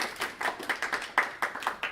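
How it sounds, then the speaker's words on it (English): A small audience claps after a technical talk, the claps light and fairly sparse, irregular and quiet, like a handful of people in a room. "So, applause."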